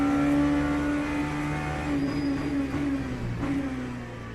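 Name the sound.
LMP3 race car engine in Le Mans Ultimate video game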